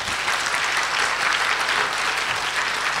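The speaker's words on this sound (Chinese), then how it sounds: "请给我一个鼓励的掌声" Sustained applause from an audience at an evening gathering of cancer survivors, steady dense clapping filling the whole moment without voices over it.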